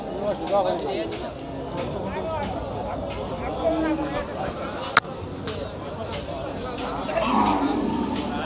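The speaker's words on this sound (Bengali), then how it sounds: "এখানের শেডও প্রচুর গরু।" Cattle moo repeatedly among a crowded cattle market in Goalabazar, the low calls overlapping with constant chatter from many people and a single sharp knock midway.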